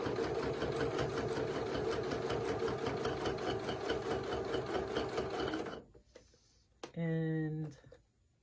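A sewing machine runs steadily for almost six seconds while stitching down the side of a cathedral windows quilt block, then stops; a voice speaks over the quiet that follows.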